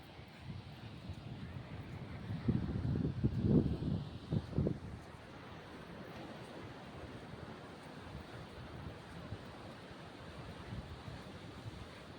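Low rumbling surge of sea waves against a pier that shakes when waves hit, with a stronger wash early on, then a quieter continuous roar of surf and wind.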